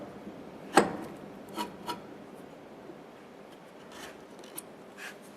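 A hand tool shaves thin curls of wood from a tenon to fit it into a mortise, heard as a few short separate rasping scrapes, close and fairly quiet, with pauses between strokes.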